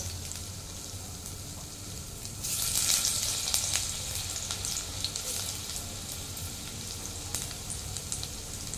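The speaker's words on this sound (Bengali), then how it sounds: "তেলটা আমার গরম হয়ে গেছে, আমি আলুগুলো দিয়ে দিচ্ছি একে একে" Potato pieces dropped into hot oil sizzling and crackling steadily, the frying swelling louder partway through as more potatoes go in, close and continuous with scattered pops.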